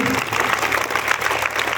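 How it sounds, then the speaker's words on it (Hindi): Schoolchildren at a public school clap together in steady, dense applause that fills the whole moment, close and loud, with a low hum running underneath. "सारे बच्चे ताली बजाओ, बजाओ ताली"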